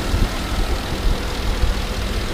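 A 6.2-liter V8 in a 2012 GMC Yukon Denali XL AWD idles steadily, a low continuous rumble heard up close with no talking over it.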